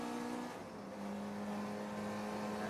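Race cars, including a Daimler, drive a road circuit: a fairly quiet, sustained engine drone with a steady pitched tone that briefly dips and then resumes, with no voices.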